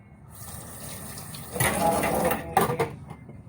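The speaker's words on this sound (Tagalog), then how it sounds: "para sa huli, yung kutsara na lang ang ating babanlawan." Tap water runs into a sink while a spoon is rinsed during dishwashing, a steady stream that swells into a fuller splashing gush with light clinks.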